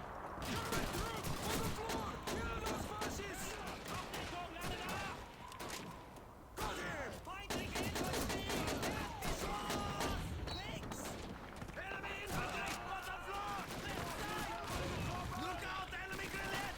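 Call of Duty 2 gameplay: dense, continuous bursts of rapid gunfire with heavy blasts that fit grenade explosions, loud and close throughout, while players talk over the combat.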